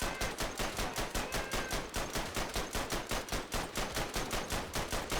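A World War I machine gun in the shooter Verdun fires one continuous burst, with rapid, evenly spaced shots in a fast steady rhythm, loud and close, and no pauses.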